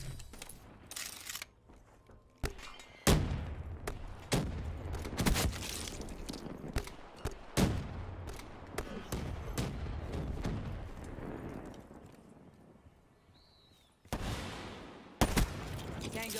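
Gunfire and artillery in the video game Black Ops 3, with sharp bursts and rapid volleys crackling at varied distances, some strikes close and loud, separated by quieter rumbling stretches.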